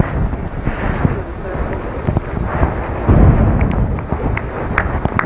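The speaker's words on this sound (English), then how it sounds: "it's turning a little breezy now" Wind gusting across the microphone at an outdoor road race: a loud, continuous low rumble and buffeting throughout, swelling briefly past the middle.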